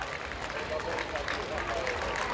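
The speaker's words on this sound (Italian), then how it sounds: "Facciamogli un applauso." A live audience applauds a singer about to perform a cover, a dense, moderately quiet patter of clapping mixed with crowd babble and some talk.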